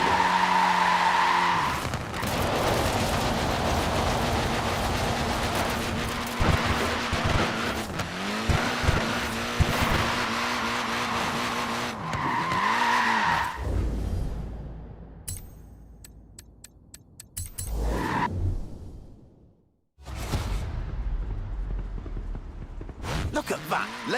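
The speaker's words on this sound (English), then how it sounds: "Look at that, laying down some rubber there." A tiny-wheeled car skids in the Forza Horizon 4 racing game, with a loud engine drone and squealing tyres sliding across the surface, followed by scattered clattering and quieter gaps, and speech is heard over it.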